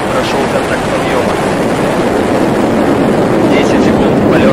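An Angara-A5 rocket's engines roar at launch from the Vostochny cosmodrome, a loud, dense, continuous rumble with a wind-like rush that holds steady throughout, and a voice speaks over it.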